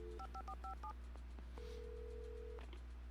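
A quick run of electronic keypad beeps from a telephone being dialed in the video game Alan Wake, followed by a single long steady tone, over a low constant hum.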